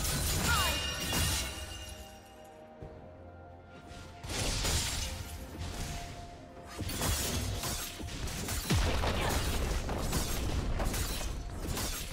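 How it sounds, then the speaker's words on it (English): A turret is destroyed in League of Legends during a mid-lane Irelia versus Sylas match, with crashing, shattering booms and whooshes that swell and break through a dense, continuous wash of game noise. "Red Team's turret has been destroyed"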